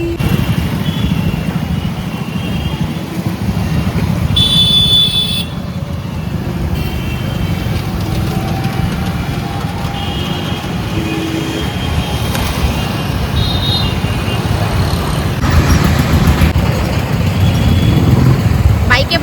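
A motorbike rides along a main road, its engine droning steadily under rushing wind and surrounding traffic, with passing horns and other vehicles and people talking throughout.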